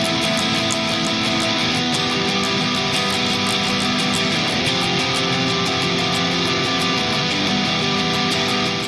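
Electric guitar plays the chorus riff of an original rock song, a dense, sustained, distorted-sounding part with steady rhythmic hits running loud and continuous throughout, no voices.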